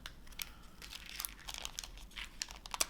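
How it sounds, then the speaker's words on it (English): Thin plastic packaging from a Japanese candy box being peeled back, quiet close crinkles and small crackling ticks in uneven bursts. "I think I peel this back"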